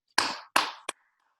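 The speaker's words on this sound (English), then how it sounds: "how about a virtual applause for Jose?" Three short bursts of virtual applause from online meeting participants: two longer, rough clapping swells and a quick final clap, close and alone, then a faint trailing tail.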